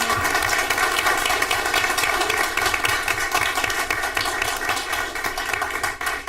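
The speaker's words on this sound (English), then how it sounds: "All right, another round of applause for our October Student of the" Audience applause at a school board meeting for the October Student of the Month, dense continuous clapping from a roomful of people, steady and moderately loud throughout.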